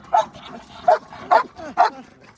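Two pet dogs named Lucy and Sweetie bark in quick succession at a poultry farm, four sharp close yips and barks spaced about half a second apart.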